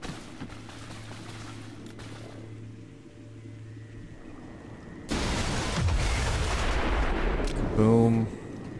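Video game explosions and gunfire in XCOM 2: War of the Chosen, a turn-based alien combat game: a quiet low hum gives way to a sudden loud, sustained blast with rumbling debris and a sharp burst near the end.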